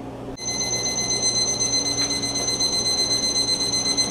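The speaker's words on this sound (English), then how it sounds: "so the alarm has gone off, which means we've reached 165." A smoker's meat thermometer alarm sounds off with steady high-pitched electronic tones once pastrami smoking reaches 165 degrees, starting abruptly and holding continuously over a low background hum.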